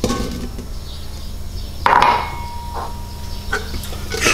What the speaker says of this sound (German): Wir machen ein bisschen Pflanzenöl rein, wirklich nur ein bisschen. Schmeißen unsere Zwiebel rein.